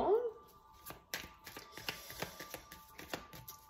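Oracle cards are shuffled for a tarot-style reading, a run of soft papery riffles and taps coming in irregular bursts close by, with no talking.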